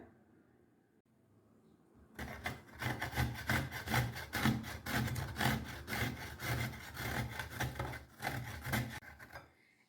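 Peeled raw green mangoes are rubbed against a grater in quick, rhythmic rasping strokes, close and fairly loud, after a short quiet start.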